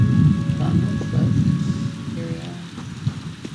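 Steady rain falls in the Elder Scrolls Online game world, a dense hissing wash with a faint rumble of thunder underneath, fairly loud and continuous with a few sharper drops near the end.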